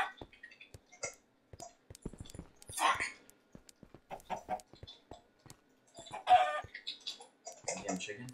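Minecraft chicken clucking during an in-game hockey match, short scattered clucks and squawks at low level, mixed with clicks and bursts of quiet talk between players.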